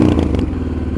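A Honda XR650L motorcycle exhaust gives a loud, close, low rumble with a brief rough revving edge. It fades slightly within a second.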